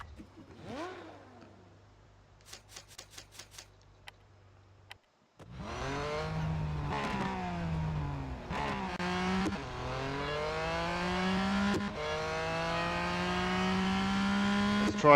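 A race car engine in the mobile racing game Real Racing 3: after a few faint clicks, the engine roars up loud and revs steadily higher through gear changes, close and continuous with no talk.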